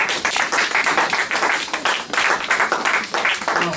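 A church congregation bursting into loud, sustained applause, with dense rapid clapping that continues evenly and close for a few seconds, without speech over it.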